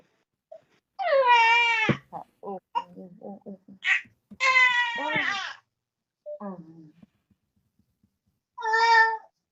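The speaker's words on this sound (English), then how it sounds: "Oh, your baby is crying." A young infant cries in drawn-out, wailing bursts with short stuttering sobs between them. The crying is loud and near, with pauses of silence.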